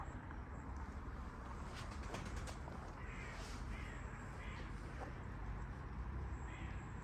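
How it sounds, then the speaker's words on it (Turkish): Crows caw overhead in the open sky, a few faint scattered calls over a steady low outdoor hum, distant and quiet with no talking. "Oha karganın gökyüzüne bak."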